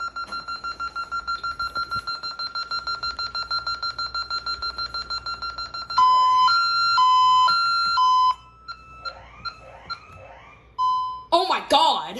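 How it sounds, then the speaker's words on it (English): An ADT SafeWatch Pro 3000EN alarm system goes off during a test: a long run of rapid rhythmic beeps gives way to loud steady shrill siren tones, then chirping bursts, with a voice exclaiming near the end. "I was not expecting the siren to sound like that."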